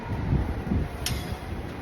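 Low, gusty wind in Wellington, New Zealand, rumbling and buffeting close up, with uneven swells and no voices.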